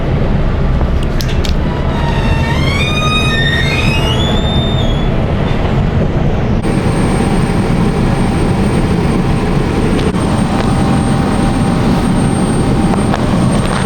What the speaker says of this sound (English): Frankfurt Airport.